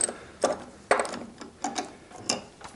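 A clamp is tightened onto timber at a mortise board with a scrap of wood against it, producing about five close, sharp ratcheting clicks at uneven intervals, with no one talking.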